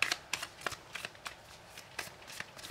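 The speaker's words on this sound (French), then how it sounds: "on va prendre deux cartes pour chaque semaine du mois avec le Lenormand" Lenormand cards being shuffled by hand, a close run of quick riffling bursts repeating every half second or so, crisp and moderately loud with no talk.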